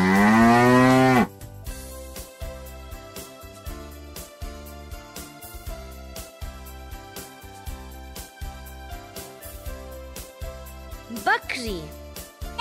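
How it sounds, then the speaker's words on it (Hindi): A calf gives one loud, drawn-out moo at the start, a low call that bends downward, followed by light instrumental music playing steadily, with a brief higher animal call near the end. "बछड़ा"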